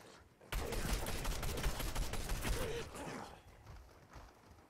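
Rapid bursts of gunfire crackle in a Fortnite match as a team fights in a house, loud and dense for about two seconds before trailing off into scattered, fainter shots.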